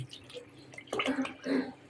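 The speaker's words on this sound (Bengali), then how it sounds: "আর দিয়ে দিব পানি" Water poured into a pot of broken rice before cooking, two short splashing pours close by, fairly quiet against a faint room hum.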